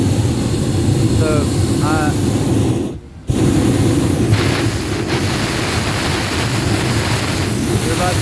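Airplane engines roaring inside the cabin before takeoff, a loud broadband rumble with wind-like hiss throughout, a brief dip midway, while someone talks over it.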